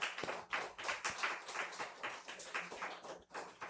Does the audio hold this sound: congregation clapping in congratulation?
yes